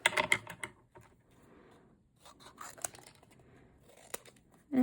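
Scissors cut through a thick piece of scrap paper during card making: a quick run of crisp, close snips at the start, then quieter rustling and handling with a few sharp clicks, and a louder snip at the very end.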